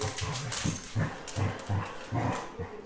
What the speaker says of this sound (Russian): Это игра собак.